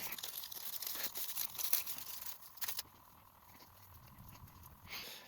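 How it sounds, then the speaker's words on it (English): Aluminum foil crinkles and tears as a layer is peeled off a flush-mount ceiling light fixture, close rustling for a few seconds before it fades to quiet handling. "now I'm going to just peel off this layer of foil"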